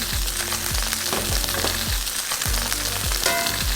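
Garlic frying in butter next to branzino fillets in a pan, a loud continuous crackling sizzle with repeated low thumps running underneath.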